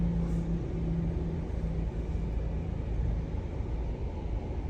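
Steady low rumble of road traffic in the Philippines, a continuous dense hum of passing vehicles with no distinct horns, moderately loud and unbroken throughout.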